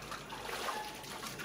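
Water is tossed out and splashes, then trickles and dribbles away nearby, a brief soft sound during cooking of a large batch of beef haleem.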